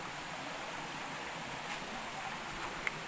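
River water flowing steadily, a continuous broad rushing hiss at moderate level, even and unbroken throughout with a faint click near the end, no voices.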